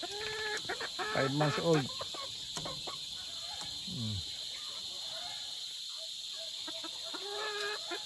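Boston Roundhead pullets, about five months old, clucking in a yard in several short bursts, with crickets or insects droning steadily and a voice talking over them.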